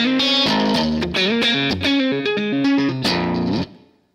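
Distorted electric guitar playing a catchy original riff, a quick sequence of chugging palm-muted hits and moving chord shapes, loud and close with no talk, ending in a sustained chord that cuts off.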